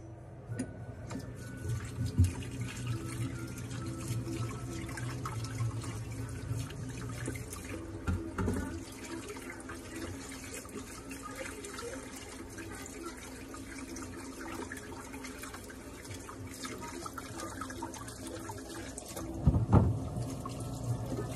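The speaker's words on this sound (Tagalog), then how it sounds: "Hugasan na natin ang ating kamuting kahoy na nabalatan para i-id na natin." Peeled cassava gets washed under running tap water in a kitchen sink, a steady splashing and trickling stream with occasional louder knocks and sloshes throughout.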